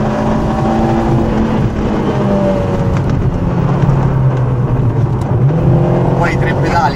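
A youngtimer car's engine hums and revs steadily from inside the cabin while driving, a continuous low drone with shifting pitch, with people talking over it.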